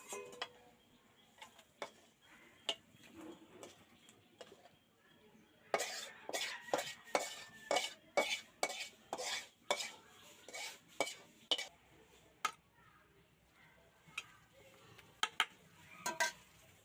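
Cooked broccoli curry is scooped into a pot in quiet surroundings, a long run of sharp spoon scrapes and clinks against metal repeating every half second or so, soft and close.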